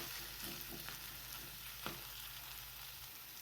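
Onion and tomato frying in a pan for Indian egg bhurji, a steady low sizzle with a few soft stirring scrapes, fairly close and with no voices.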